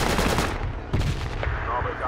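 Rapid bursts of automatic gunfire in the Project Reality military shooter game, loud and close, with sharp overlapping shots ringing out over a dense rumbling battlefield backdrop.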